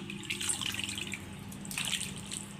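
Water runs steadily from a tap with splashing and sloshing as chicken is rinsed under the stream, close by.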